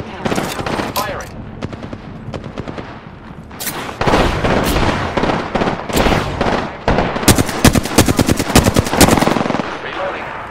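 Automatic weapon gunfire in Apex Legends fills the scene: loud rapid bursts of shots, with brief pauses between volleys and heavier sustained firing in the second half.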